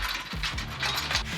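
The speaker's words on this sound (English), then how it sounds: "Tighten them up." Close, rapid ratchet clicking while bolts are tightened on a bash plate fitted to a Ford Ranger PX, a steady rattling run of pawl clicks lasting about a second and a half.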